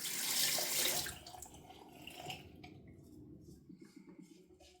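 Tap water runs into a sink while a shaving brush is rinsed, a steady close splash loudest in the first second, then easing to a softer trickle with small drips.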